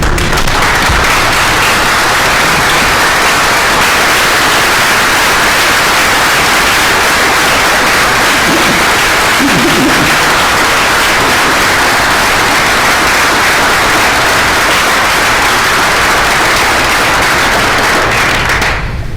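Sustained, dense applause fills a university board meeting as the audience stands to honor Ava Parker at a Florida A&M University work plan presentation. It stays loud and steady for about nineteen seconds with no voices over it.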